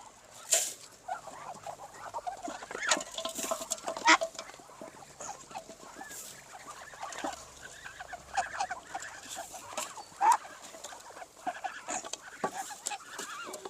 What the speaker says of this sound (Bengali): খাওয়ার দেওয়ার সময় হাঁস তো কথা মানতে চায় না অল্প পাগলামি বেশি করে